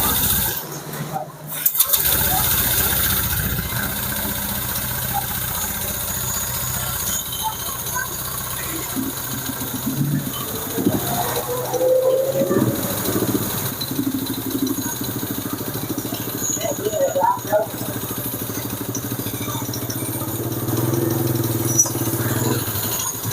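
A rebuilt motorcycle engine being started after an overhaul in a workshop, a brief cranking burst followed by a steady, mid-pitched idle that runs on continuously while people talk nearby.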